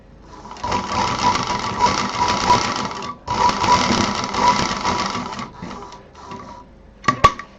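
A sewing machine stitching fabric pieces for a hot pot pad, running in two long loud bursts of rapid needle chatter with a short pause between, followed by a few brief stops and clicks.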